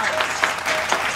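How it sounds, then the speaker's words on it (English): An audience claps and cheers at a live song game show, a brief dense burst of applause heard up close and loud. "Give a round of applause, guys."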